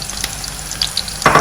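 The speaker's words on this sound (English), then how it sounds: "You will fry it till it's a little bit golden brown." Chopped onions frying in hot oil that was first used to cook shrimp, a steady close sizzle with a brief clatter of stirring near the end.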